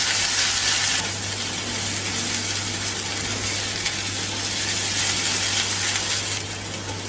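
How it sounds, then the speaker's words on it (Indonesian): Ground spice paste sizzling as it is sautéed in a hot pan for an Indonesian soup, a steady, close, dense frying hiss with no talk. "setelah ini kita akan tumis bumbunya sampai benar-benar wangi banget"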